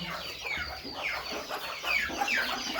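Hens kept shut inside their coop cluck and chatter in a busy overlapping chorus, several birds calling close by in short rising bursts with no speech.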